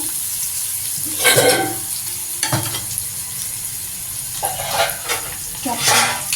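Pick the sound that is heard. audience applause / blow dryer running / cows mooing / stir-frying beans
stir-frying beans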